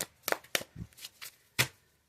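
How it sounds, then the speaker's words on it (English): Several quick papery riffles of tarot cards being shuffled, in short bursts with pauses between, close and fairly crisp. "One more shuffle."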